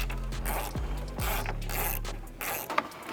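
Ratchet tool clicking as 8 mm fasteners come off a BMW G20 330i or G22 430i, several bursts of close, rapid ratcheting with tool knocks between, no talking.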